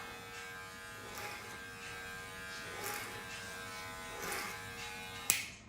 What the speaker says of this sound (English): I'm pivoting it out, taking my clippers across like that.